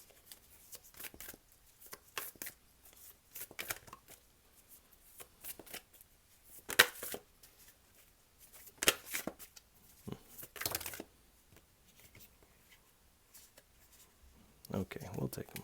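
Tarot cards are shuffled and drawn in quick papery bursts and riffles, close and fairly quiet, with a person talking between and over the card sounds.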